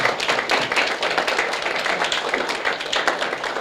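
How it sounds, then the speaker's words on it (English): Audience at an African Union peace and security event applauds the journal's contributors with dense, steady clapping that fills the room and holds evenly throughout, with no voices over it. "The contributors to please give them a round of applause."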